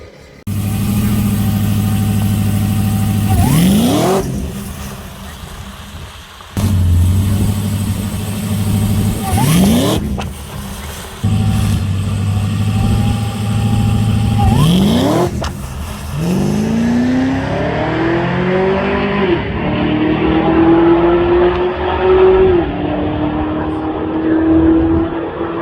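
Drag race car on a track during a private test session, engine revving hard in repeated bursts with sharp cutoffs between them, then a long rising acceleration that builds in pitch, loud and close.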